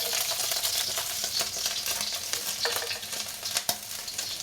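Garlic hits a tablespoon of hot oil in a wok over medium-high heat and sizzles steadily, with close, crackling frying and stirring noise throughout and no talking.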